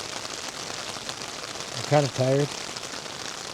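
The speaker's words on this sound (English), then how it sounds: "I'm going to let the rain put me to sleep" Steady rain patters on a tarp shelter as a constant soft hiss, and someone speaks briefly and tiredly partway through.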